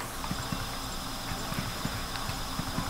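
Horse hooves clip-clopping in the Luigi's Mansion video game, a quick irregular run of light, crisp knocks over a constant hiss, moderately close and without speech.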